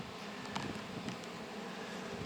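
Honey bees from a hive kept in a chimney buzz softly and steadily, a faint continuous drone with a few brief louder passes of nearby bees.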